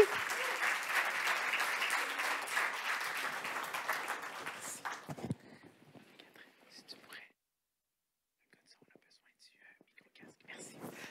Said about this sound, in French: Alors, on les applaudit, on les remercie.